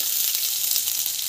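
Mustard seeds, cumin, chana dal and garlic sizzle in hot oil, making a bright, steady hiss with faint crackles running evenly from start to finish, with no voices.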